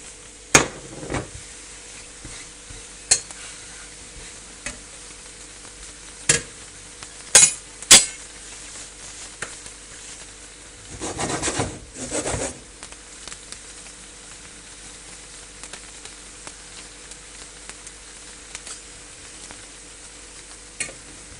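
A crepe sizzles softly and steadily in a frying pan after being flipped, with scattered sharp clinks and scrapes of utensils against the pan.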